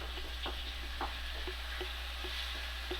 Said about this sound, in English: We got our meat cooking.